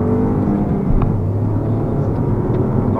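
An Opel Corsa accelerates with a steady, droning engine note that builds gradually, heard from close by and fairly loud, with no talking over it.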